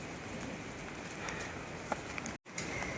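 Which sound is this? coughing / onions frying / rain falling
rain falling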